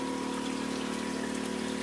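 Water runs steadily out of a 110mm outflow pipe from a 1,000-litre IBC aquaponic fish tank, a faint continuous trickling stream with a steady pump-like hum beneath and no voices.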